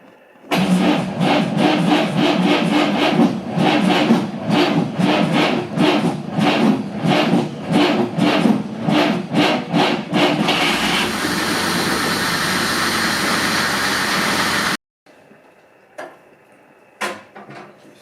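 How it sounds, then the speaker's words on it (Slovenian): A 1930s Mercedes-Benz 200 Cabriolet C (W21) engine chugs with a loose, uneven rhythmic beat, then settles into a smoother steady idle before cutting off abruptly, leaving quiet clicks. "Nato je sedel v avto in pognal motor."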